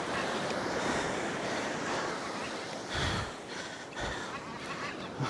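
Surf breaks on a beach north of Perth, a broad, steady wash of waves with wind buffeting the microphone. A couple of louder surges stand out and no one speaks.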